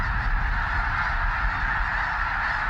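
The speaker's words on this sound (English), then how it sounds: "The cranes are probably the most vocal" Cranes calling at Bosque del Apache, a steady dense chorus of honking bird calls blending into a continuous wash, many birds at middle distance with no single call standing out.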